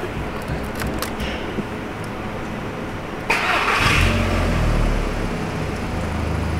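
A MK4 Volkswagen Golf GTI with a standard exhaust and no air filter fires up midway through, its engine catching with a loud burst and then settling into a steady, revving drone close by, after a few seconds of quieter ambient noise.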